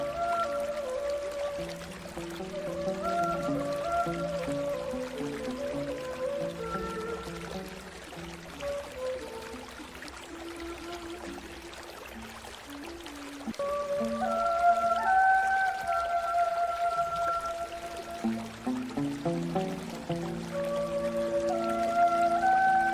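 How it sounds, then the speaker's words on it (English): Gentle river water pours and trickles in a calm, continuous flow, blended under soft sustained musical tones, with no voices heard. "See yourself by a serene river, the water sparkling in the sunlight."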